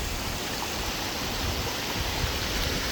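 Heavy floodwater rushes through Jaffna in a steady, dense roar that never lets up, with no voices over it.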